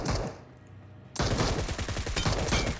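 Dense bursts of automatic gunfire in PUBG Mobile, rapid repeated shots that fall quiet briefly and then return loud and sustained through the rest of the moment.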